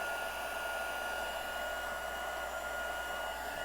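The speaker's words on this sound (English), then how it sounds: "Then we're going to bring in our heating tool, and we're going to go ahead and heat emboss that." A heat embossing tool blows hot air over embossing powder on a handmade greeting card, giving a steady, even, close whooshing hum with a constant fan whine and no speech.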